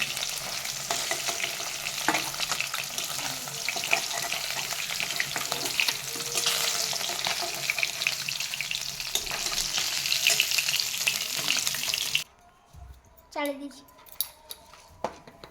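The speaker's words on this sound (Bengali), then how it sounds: "মাছ ভাজা হয়ে গেছে, অল্প অল্প ভাজতে হবে দই কাতলা করতে গেলে" Fish frying in hot oil for doi katla, a Bengali yogurt fish curry: a steady, dense sizzle and crackle close by for about twelve seconds, then sudden quiet with a few faint clinks and a brief voice.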